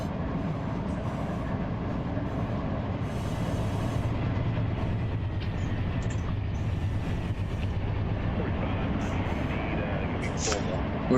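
An 8,000-foot intermodal unit train in the RUN8 railroad simulator runs steadily with five locomotives on the point and two on the rear, giving a continuous rumbling roar of engines and rolling cars with no break.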